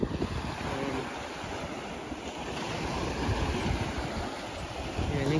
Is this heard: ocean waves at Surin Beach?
yes